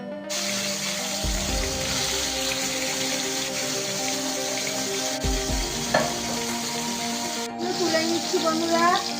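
Pieces of bhola fish slid into hot oil in a kadai sizzle and crackle continuously, close and loud, with bursts of spattering and occasional utensil clinks.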